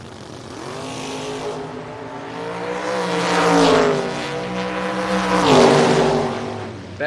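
A 1963 split-window Corvette at a drag racing event, its engine roaring loud and close with a rising rev that peaks twice as it accelerates past.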